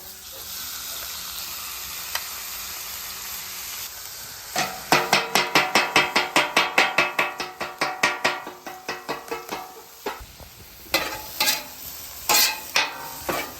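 Philly cheesesteak meat sizzles on a Blackstone griddle set on low, with steady frying hiss and a long run of quick rhythmic metal spatula chops and scrapes, pausing and then resuming in short bursts.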